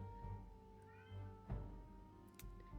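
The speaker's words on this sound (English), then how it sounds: "I'm sorry if you hear my cat in the background." A grumpy house cat meows softly in the background, a few short, faint mewing calls over a quiet room.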